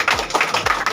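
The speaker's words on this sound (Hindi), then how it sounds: "ताली लगा दीजिएगा" An audience claps in a quick burst of sharp, close hand claps, a short lively round with no voices over it.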